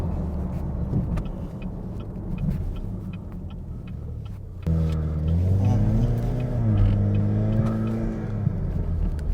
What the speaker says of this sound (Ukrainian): блоф збрасує надлишковий тиск